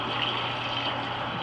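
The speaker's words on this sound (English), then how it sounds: "So we got the coolant running a bit better." Coolant flowing steadily through a TOS radial arm drill, a continuous close wash of liquid with no break across the short stretch.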